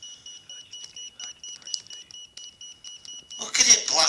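Steady repeated electronic warning beeps from an EMF meter held near a mobile phone, a fast regular pulse throughout, close and clear, with a louder burst of beeping near the end under a voice.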